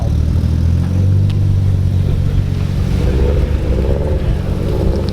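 A tuned Nissan KA-series turbocharged car engine revs steadily and loudly at close range, a continuous low drone with faint voices underneath.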